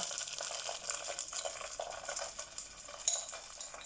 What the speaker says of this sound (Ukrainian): Ох, як воно вже шкварчить,